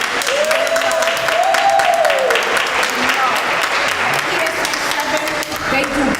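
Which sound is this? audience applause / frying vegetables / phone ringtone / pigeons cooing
audience applause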